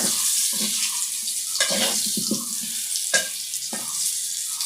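Potatoes fry in hot oil, a steady bright sizzling hiss broken by a few louder bursts as they are stirred or turned in the pan.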